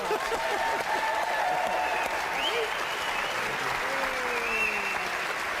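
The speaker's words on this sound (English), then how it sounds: "Give them a round of applause" Studio audience applauding two people on a live paranormal show broadcast from Edinburgh, steady dense clapping filling the whole stretch with faint voices and a few whoops mixed in.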